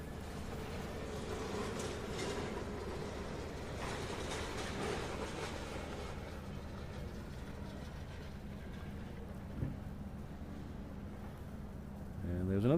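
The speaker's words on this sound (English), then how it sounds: "Ooh, there's a tram." A tram rolls past near Innsbruck airport in Austria, a steady low rumble with faint rail clatter at moderate distance, under an even outdoor background.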